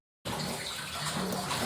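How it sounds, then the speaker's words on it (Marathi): Water pours steadily into a pan of marinated onion chicken being cooked for chicken sukka in a Kokan home kitchen, a close, continuous gushing that begins abruptly and carries no talk. "पाणी घालू"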